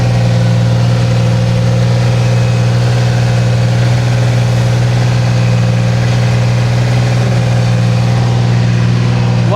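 A Dodge Ram pickup truck stuck in beach sand runs its engine hard, a loud, steady low drone held at constant revs throughout with no break.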